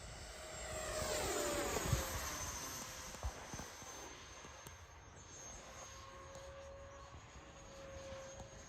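A 70mm Freewing F-22 RC electric ducted-fan jet makes a low pass overhead: a high, whining roar that swells as it approaches and then fades, heard alone at a distance.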